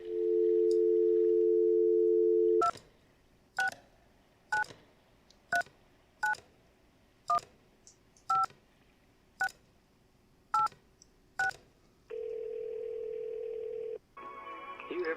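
Phone in the game Kentucky Route Zero: a steady dial tone, then about ten evenly spaced touch-tone beeps as a number is dialed, followed by a connecting tone and a brief burst of line noise.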